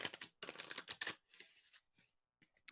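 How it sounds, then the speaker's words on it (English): Tarot cards riffle and slap together in a few close, crisp bursts of shuffling, then a quieter pause with faint handling and a last soft flutter. "One more shuffle."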